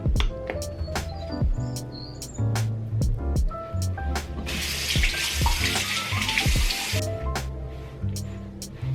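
Water runs from a bathroom sink tap during a morning face wash, with a steady splashing hiss and louder gushing in the middle, mixed with scattered clicks and knocks of handling nearby.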